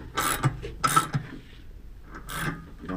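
9/16 inch ratchet and short socket snugging down a bolt on a Harley Davidson wheel, a few short rasping ratchet clicks in bursts with pauses between, close and fairly quiet.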